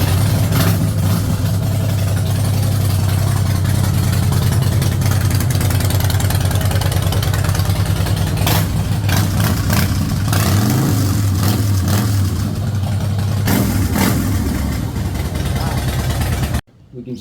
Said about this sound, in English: We turn the ignition on, hit the, oh yes, and then crank it and see what happens.